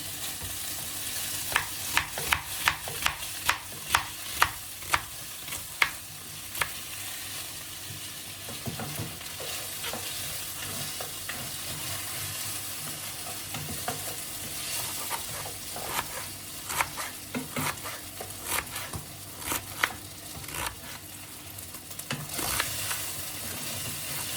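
Hot dogs frying in oil in a pan make a continuous close sizzle, with a run of sharp pops and spatters that bunch together early and again later, and no talking.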